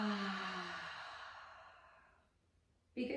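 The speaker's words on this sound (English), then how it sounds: "Exhale it out." A slow, deep breath exhaled out through the mouth during a guided breathing exercise, a soft airy sigh that fades gradually over a few seconds before a brief new sound begins at the end.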